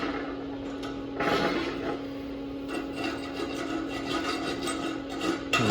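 A wire brush scrubs slag off a 6010 stick weld on a 2G butt joint in repeated close, raspy strokes, with a steady low hum running underneath.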